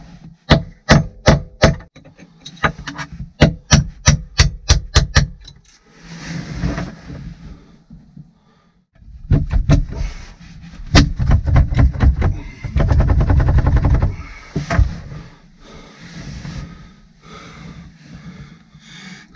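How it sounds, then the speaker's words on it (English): A hammer punches out parts of a boat's windlass in a boatyard, sounding as rapid sharp metallic whacks in quick bursts with heavier thuds and pauses between runs, close and loud. "I'm going to punch these out"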